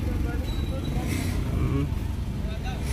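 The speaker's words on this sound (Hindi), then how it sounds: "अभी हम कार में जा रहे हैं" Road traffic rumbles and hisses outside a moving car in heavy Diwali-time congestion, a steady low drone under people talking inside.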